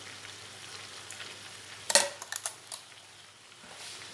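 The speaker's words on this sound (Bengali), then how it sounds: "দিয়ে আলুর সাথে খুব ভালোভাবে কষিয়ে নেব।" Potatoes and papaya sautéing in a pan with a pinch of sugar, a soft continuous sizzle broken midway by a cluster of sharp spatula scrapes and clinks against the pan.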